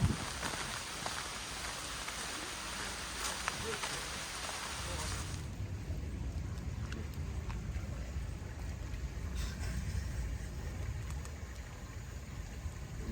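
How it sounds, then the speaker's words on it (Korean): Rain beginning to fall at Wiyangji reservoir in Miryang, a steady soft patter and hiss of drops that shifts partway through to a lower, rumbling wash with light wind noise, and no speech over it. "이제 비가 또 시작하네요."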